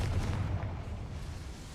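A Confringo fire spell bursting in Hogwarts Legacy, a deep rumbling explosion that fills the short moment and slowly fades, loud and close with no voices over it.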